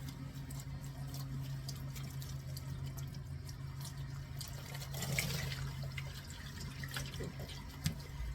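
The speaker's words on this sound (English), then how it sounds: "this is how I rinse my yarn" Tap water runs steadily over freshly dyed yarn being rinsed in a sink, a constant quiet splashing stream with faint drips and small handling noises, no voices.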